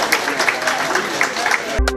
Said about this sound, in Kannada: ಇವರಿಗೆಲ್ಲರಿಗೂ ಒಂದು ದೀರ್ಘವಾದ ಚಪ್ಪಾಳೆಯನ್ನು ತಟ್ಟಬೇಕು